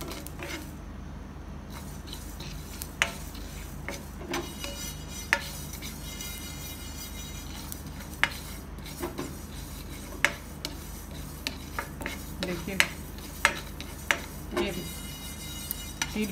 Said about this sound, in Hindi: आवाज आ रहा है। देखिए, तिल भून रहा है।